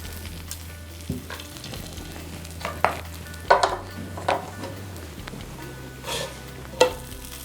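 Keerai chapathi, a green spinach flatbread, frying in a little oil on a hot dosa griddle, a low steady sizzle with a few soft scraping taps and brief bursts of crackle.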